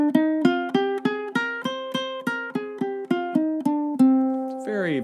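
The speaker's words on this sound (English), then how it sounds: "And minor scales, well, they sound like this, right?" Plucked ukulele notes step through a minor scale, one clear note at a time at an even pace, ending on a held note.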